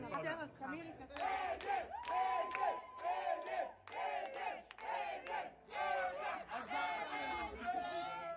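A large crowd at the Eurovision Song Contest final makes a sustained, loud roar of shouting and jeering aimed at a singer, rising and falling in waves while music and voices sound through it.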